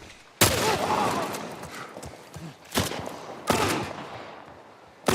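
Three loud, distinct gunshot blasts from The Last of Us, spaced a couple of seconds apart, each ringing out and decaying against background game ambience.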